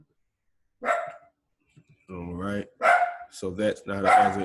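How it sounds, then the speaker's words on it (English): A dog barks sharply in a short burst near the start, then people talk indoors during a walkthrough of an as-is house property. "That was my dog."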